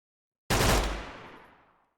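MAC-10 submachine gun fired in a modded Minecraft game, one loud abrupt burst of rapid gunfire lasting about half a second and then a fading echo tail, with no talk over it.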